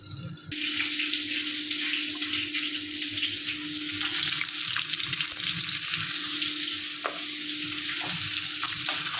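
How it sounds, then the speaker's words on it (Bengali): Eggs frying in a wok, a steady close sizzle with a faint continuous hum underneath, running evenly from start to finish with no voices. "অলরেডি কড়াইটা বসায় দিচ্ছি ডিমগুলো ভাইজা নেব"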